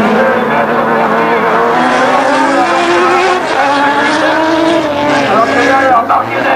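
Rallycross cars, including Nissan Micras and an Alpine, race at Badefols-d'Ans in the 2001 Coupe de France, their engines a loud, continuous roar of overlapping revving tones.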